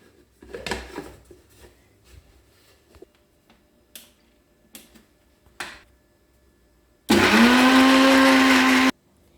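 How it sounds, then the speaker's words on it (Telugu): A mixer grinder whirs loudly for about two seconds as it grinds garlic with chilli powder, coming in after a stretch of quieter kitchen clicks and taps. "ఇలా మిక్సీ పట్టాలండి ఎల్లిపాయ కారం"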